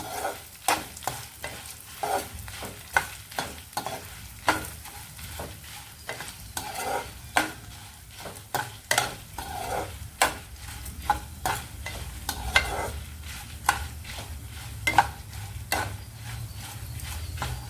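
Mustard seeds fry in a pan for bitter gourd spice powder, giving a continuous sizzle and crackle with a regular series of scraping clacks as a spoon stirs them.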